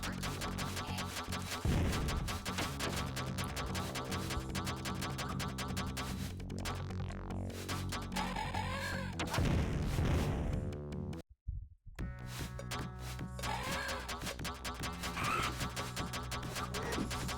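Rapid gunfire blasts away at dinosaurs in a video game, a dense, continuous barrage of shots and booms with a brief drop to near silence partway through before the shooting resumes.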